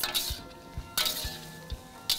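A sauce is stirred into a pan of Chinese takeaway-style food, with a soft sizzle under a few sharp clinks and scrapes of a utensil against the pan.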